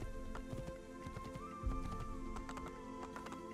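Horse hooves clip-clop in a quick, steady rhythm in Assassin's Creed, over a humming game soundtrack, with a louder thump midway.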